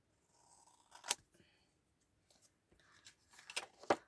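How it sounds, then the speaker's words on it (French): Large scissors snip through paper for a handmade mini album, two sharp cuts close by with a pause between and some light handling rustle, no voices. "je vais prendre mon ciseau, un grand ciseau quand même, et je vais venir découper"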